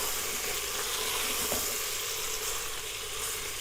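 Mutton pieces and potatoes fry in oil in a pressure cooker pot while a spoon stirs them, a loud steady sizzle with faint scraping, close and continuous with no talking.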